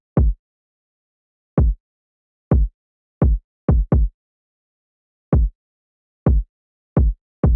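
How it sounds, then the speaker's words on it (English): A simple overdriven kick drum pattern built from Splice samples in Logic: ten punchy, booming low hits in an uneven, syncopated rhythm with silence between them, loud and alone. "So I decided to put in this very simple kick pattern just to round off the drums"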